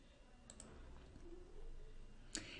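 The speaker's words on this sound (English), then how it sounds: "I click the Estimate Parameters Now button" Two quick mouse clicks on a software button in a hierarchical Bayes estimation program, one early and one sharper, near and clear against quiet room noise.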